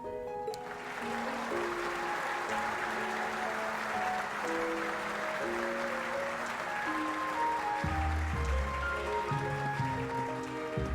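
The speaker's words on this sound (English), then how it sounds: "let us give them yet another round of applause" Applause from a crowd in a cutscene of Trails of Cold Steel III, set at a Valflame Palace gathering: a steady, dense wash of clapping that holds for the whole stretch, blended with soft sustained music tones.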